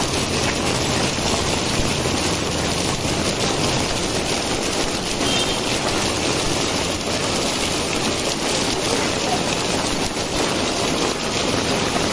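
A heavy downpour makes a dense, unbroken roar of rain that stays loud and steady throughout, with no talking.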